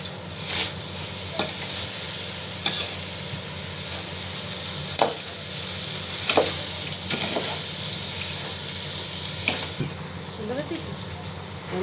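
Basanti pulao rice with raisins, peas, cashews and ginger fries in a pan, sizzling steadily while a spoon scrapes and stirs in several distinct strokes, with a voice talking over it.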